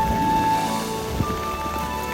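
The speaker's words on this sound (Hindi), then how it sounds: "बहुत ज़्यादा बारिश हो रही है।" Rain pours down on a surface in a constant, dense patter, with a faint steady hum and a soft thump partway through.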